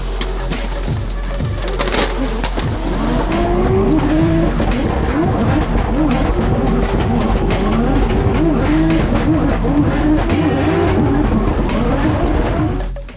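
A drift race car's engine roars and strains on the track at a German drift championship round, close and loud, with steady high revving and tire squeal throughout.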